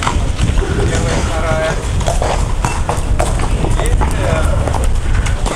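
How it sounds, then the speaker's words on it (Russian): A horse giving rides in Suzdal, Russia, its hooves clip-clopping in a steady rhythm on the street nearby while people talk over it. "Смотрите, на лошадках катает."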